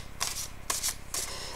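Cards shuffled for a card reading, three quick close riffling bursts in steady succession, crisp and bright, alone with no speech.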